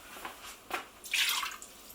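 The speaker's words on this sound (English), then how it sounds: "I'm just going to half fill that up with water" Water poured into an Instant Pot to fill it halfway while making carrot and lentil soup, heard as a splashing trickle with a brief louder gush.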